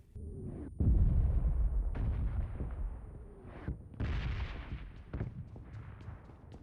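A grenade blows up in the PUBG Mobile Lite mobile game, a heavy boom followed by further sharp blasts and pops of gunfire over a few seconds, loud and without talk.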